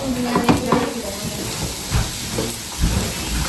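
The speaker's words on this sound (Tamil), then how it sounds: "வெங்காயம் நல்லா பொரிஞ்சு வந்துட்டு இப்போ ப்ரோக்கோலியை கொட்டுவோம்" Broccoli drops into onions already frying in a pan, giving a hissing sizzle with a few bursts of clattering and stirring against the metal.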